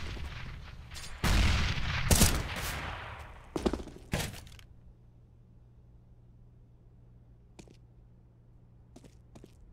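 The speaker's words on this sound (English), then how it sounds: "Nice shot from Cyberfocus to at least clean him down" Gunshots ring out during a competitive Counter-Strike match on Mirage, a burst of loud rapid shots and booms over the first few seconds, then a quieter stretch broken by a few faint, distant pops.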